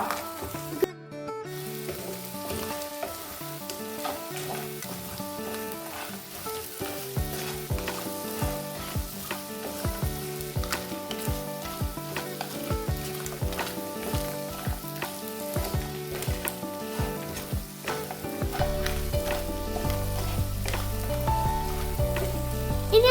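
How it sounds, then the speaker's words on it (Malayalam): Fried crab pieces sizzle steadily in a hot kadai pan, with repeated scraping and clinking as they are stirred and mixed, and no voices over the cooking. "നമുക്കത് നന്നായി മിക്സ് ചെയ്തെടുക്കാം കേട്ടോ"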